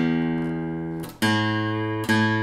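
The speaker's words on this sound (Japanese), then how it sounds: "1本ずつでこのベンベン鳴らしてるだけでもちょっと分かるくらいいい音じゃない。" Cheap acoustic guitar fitted with Elixir strings, plucked one string at a time: three clear plucks, one near the start and two more at about one-second intervals, each ringing with sustained harmonic tones and no talking.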